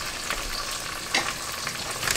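Ingredients for a Tom Yum hotpot broth sauté in a pan with a loud, continuous sizzle, broken by a few scraping stirs that rise briefly above the frying noise.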